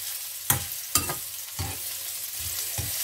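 Ginger stir-fried in a pan for Thai chicken rice, with a spatula scraping and clattering in several distinct strokes over a steady, soft sizzle, nearby and without voices.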